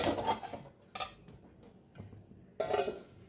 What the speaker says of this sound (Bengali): এবার এই সব শুদ্ধ একটু নাড়বো আর এরকম করে মেশাবো